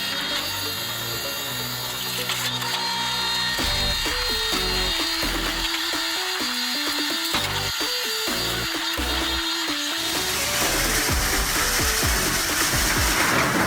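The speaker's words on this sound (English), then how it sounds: "single shaft wood chipper roars with its powerful 400 horsepower engine, crushing every piece of wood into pieces" A BWS 400-1250 single-shaft wood chipper with a 400-horsepower engine grinds and roars, labouring in uneven bursts as wood is crushed, loud and close throughout.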